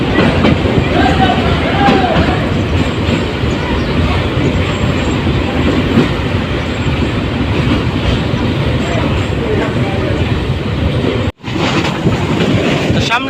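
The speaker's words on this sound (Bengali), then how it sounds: "আরো একটি ট্রেন আসছে তো এটি হলো আপনার ঢাকার থেকে ছেড়ে আসা কিশোরগঞ্জ অভিমুখী কিশোরগঞ্জ এক্সপ্রেস" Kishoreganj Express, a passenger train from Dhaka, rolls steadily past near a station in Bangladesh, a loud continuous rumble with clattering wheels that holds for the whole stretch, broken only by a brief dropout near the end.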